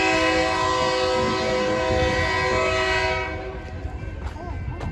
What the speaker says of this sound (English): got a train coming through here